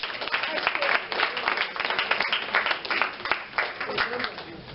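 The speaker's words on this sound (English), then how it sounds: "Give her a rousing round of applause." A crowd claps and cheers at a family music workshop, dense continuous applause with voices mixed in throughout, steady and fairly loud for several seconds.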